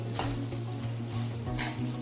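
Tempering spices frying in a couple of spoons of hot oil for an ash gourd mustard curry, a close, steady sizzle with stirring scrapes over a low kitchen hum.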